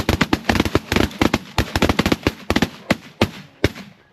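Rapid volley of shotgun blasts fired at ducks flying over decoys during a hunt, many sharp loud cracks in quick irregular succession, some overlapping, close by with no talk.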